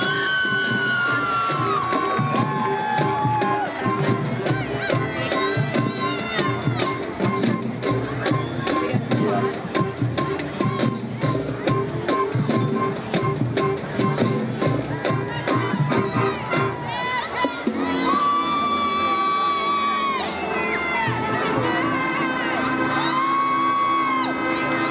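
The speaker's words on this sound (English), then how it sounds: "Please give a big round of applause for Miss Peyton Halacki" A crowd cheering and applauding for a high school homecoming court at a football game, loud continuous clapping with whoops and shouts, while an announcer's voice carries over it.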